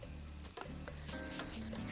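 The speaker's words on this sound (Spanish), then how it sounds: "Estamos nada más friendo cebolla, hongos portobello." Onion and portobello mushrooms fry in a pan with a steady, close sizzle and crackle throughout, with no talking over it.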